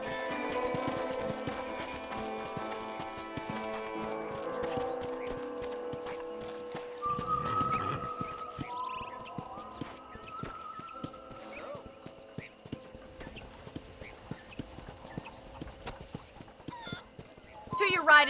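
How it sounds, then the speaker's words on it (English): Hooves clip-clop at an easy walking pace under a steady stream of talk, with a horse snorting now and then, in the video game Red Dead Redemption. "let's see if you can still ride a horse"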